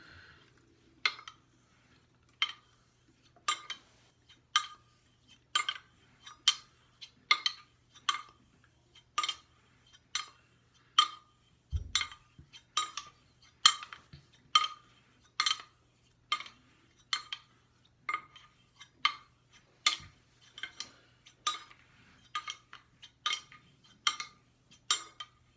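Knife sharpening on a water-soaked Naniwa 8k whetstone, with steady repeated strokes. About two dozen crisp, evenly spaced scraping passes come roughly once a second, close and clear with no talking.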